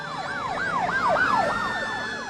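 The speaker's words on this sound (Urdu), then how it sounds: "گاڑیوں کا قافلہ سائرن بجاتا آگے بڑھتا رہا" A protocol convoy of about 35 vehicles escorting the PPP chairman near Sukkur Barrage sounds its sirens, a loud, steady wailing siren sweeping rapidly up and down over the hum of traffic.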